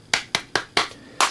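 Five sharp hand claps, evenly spaced and close, standing alone against near silence as a short applause sound effect.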